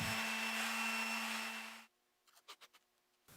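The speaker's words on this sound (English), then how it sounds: "I like to use a palm sander on my boards to make sure everything is perfectly smooth" A palm sander smooths a wooden longboard deck, a loud steady whir with a constant tone for almost two seconds, then it cuts off, leaving a few soft scraping rubs.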